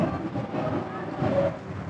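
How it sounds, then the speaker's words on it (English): Recreated battlefield sounds of the 1915 Gallipoli campaign, a dense, rumbling low roar like distant explosions or thunder that holds steady for two seconds, with no clear voices over it. "they're recreating the sounds of war that happened back in 1915 over here"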